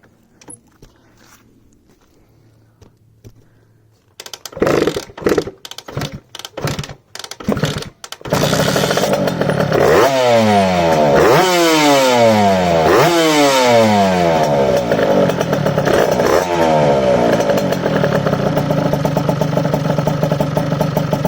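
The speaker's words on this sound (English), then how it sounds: "So let's get this started up to see if it runs better or worse." A Rieju RR 85cc dirt bike engine, heard up close with no voices: a few sharp attempts to start it, then it catches and runs steadily, revving up and down several times.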